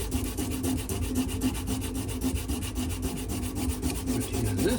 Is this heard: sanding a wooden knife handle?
yes